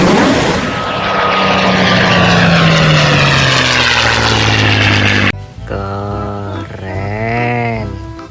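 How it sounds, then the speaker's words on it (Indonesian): A propeller airplane drones loudly, its pitch sliding downward as it passes, then cuts off abruptly and is followed by a steady, tonal whirring hum, likely a toy plane. "Wow, yang ini ada pesawat terbang."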